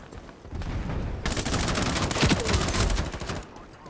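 Rapid bursts of gunfire in the Ironsight video game, a dense fusillade of shots crackling loudly in quick succession, with a couple of sharper nearby reports standing out before the firing cuts off.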